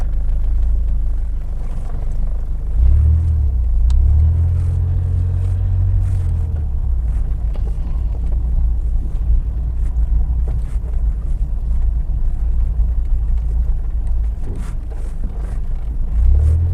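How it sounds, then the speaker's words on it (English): A learner driver's car pulls away on a road on an overcast day, with a steady low engine rumble and road noise throughout, swelling slightly as it accelerates, heard close up from inside with no talking. "Then now put your car to drive and let's go."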